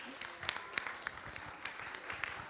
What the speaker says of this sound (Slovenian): Dobro, en aplavz seveda.